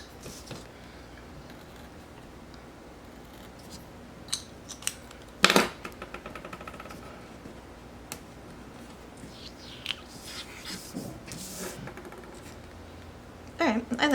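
Scissors snipping through sticker paper in a planner-decorating session, a few short crisp cuts near the middle and end of an otherwise quiet stretch with faint handling noise.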